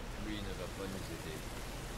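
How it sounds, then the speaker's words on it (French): Steady rain pours in The Last of Us as a broad, even hiss that persists without a break, with a low rumble beneath it. "Cette pluie ne va pas nous aider."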